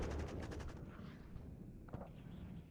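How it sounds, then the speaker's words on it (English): Artillery fire in the real-time strategy game WARNO: a dense burst of loud rapid booming impacts for the first second, then a rumbling low battlefield din with a single sharp crack near the two-second mark. "Artillery being used to good effect to take out command vehicles there."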